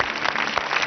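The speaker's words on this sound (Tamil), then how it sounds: "நல்லா கைத்தட்டு." Brief burst of clapping from a studio audience at a Tamil TV game show, steady and moderately loud for under a second with no talk over it.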